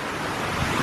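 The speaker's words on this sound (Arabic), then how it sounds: "هادو هما الشلالات ديال عين السردون" Waterfalls at Ain Asserdoun spring near Beni Mellal, Morocco, give a steady, dense rushing roar of falling water, continuous and fairly close, with no voices.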